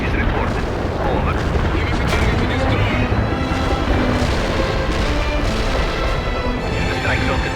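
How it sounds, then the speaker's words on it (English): Artillery strike explosions in the World in Conflict video game, a dense, continuous barrage of loud booms and bursts rolling together with no pause. "Artillery strike is the mark."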